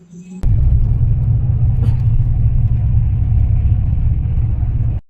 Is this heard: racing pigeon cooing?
no